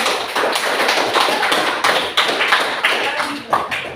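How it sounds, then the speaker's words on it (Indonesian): Classroom applause for a student group, many hands clapping in a loud, dense burst that holds steady for several seconds, close by with a few sharper individual claps standing out. "kita beri tepuk tangan kepada kelompoknya"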